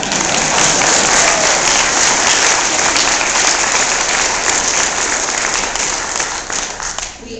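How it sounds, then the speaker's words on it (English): An audience at a political speech bursts into sustained, dense applause, many hands clapping loudly and steadily for several seconds before the clapping thins and fades toward the end. "You can clap for that."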